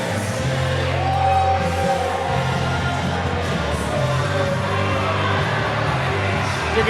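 A Merced wrestling crowd roars as Dreamy Drew enters the ring, a dense, sustained wall of cheering and scattered yells held at steady volume from start to finish.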